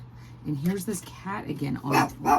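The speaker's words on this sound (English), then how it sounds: "that's my dog" A pet dog barks indoors in a run of short, close barks interleaved with a person talking.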